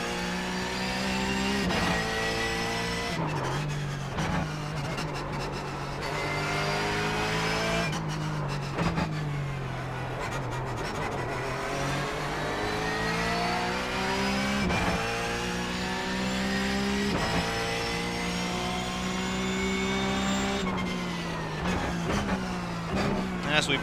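A Porsche 911 GT3 Cup car in the iRacing video game, its loud engine revving up through the gears with rising pitch sweeps and brief drops at each shift, heading downhill toward a hairpin with a voice talking over it.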